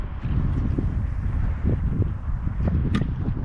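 Wind gusts buffet an outdoor microphone at a carp fishing spot, making a steady low rumble that fills the whole stretch, with a few faint rustles and clicks on top and no speech.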